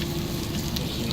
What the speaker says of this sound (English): Nice sizzling going on.